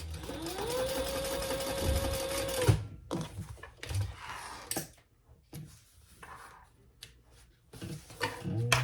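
A sewing machine runs a long stitch along a seam of a crossbody bag, a steady close mechanical whir for about three seconds, then stops, followed by scattered handling clicks and rustles of fabric.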